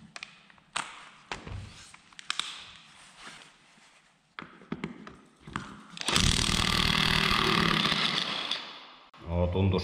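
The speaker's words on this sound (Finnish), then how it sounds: "Kokeillaanpa nyt tämmöstä, että kun tässä pulttipyssyssä on tämmönen alkuperäinen pitkä hylsy, niin tämä varmaan vie sitten sitä vääntöä jonkun verran." Impact wrench with a short socket hammering at a rusty bolt on an old rusty trailer, starting with scattered taps and clanks, then a loud sustained rattling burst, a pause and another short burst, up close.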